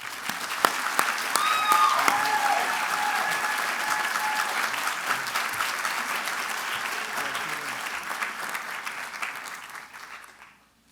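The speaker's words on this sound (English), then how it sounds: "Let's have one more round of applause for all our award winners" A commencement crowd applauds its award winners, dense clapping with a few whoops that builds quickly, holds strong for several seconds, then thins out and fades to near silence.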